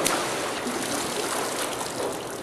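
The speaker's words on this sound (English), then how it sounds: "and then let me jump in the water here." A person in a Blueseventy swimskin plunges into the water, followed by a close, loud, steady rush of churning, sloshing water that lasts the whole stretch with no clear pauses.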